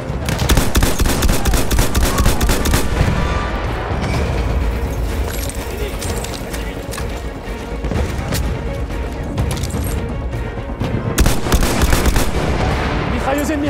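Enemy machine guns rattle in near-continuous loud bursts during a Battlefield 1 defense battle at Tahure, with booming explosions mixed in and a dense wall of gunfire that barely pauses.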